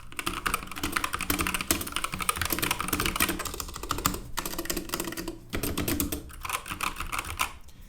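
Steady, rapid clacking of keys typed on a BlitzWolf KB2 optical keyboard fitted with red switches, heard close up and unlubed, with brief pauses between bursts.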